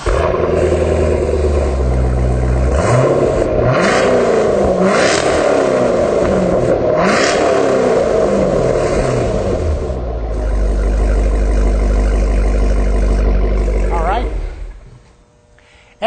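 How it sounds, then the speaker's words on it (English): A 2005 car fitted with a CORSA sport exhaust and Pro-Series 3.5-inch dual tips idles with a deep, steady rumble, then revs up and down several times before cutting off near the end; talk is heard over the engine. "And now we're ready to have Randy start the car up so that we can hear what it sounds like at idle, and Randy will rev it up"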